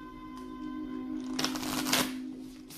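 A deck of tarot cards is shuffled in a quick riffling burst, close and crisp, over a quiet steady background hum with no talking.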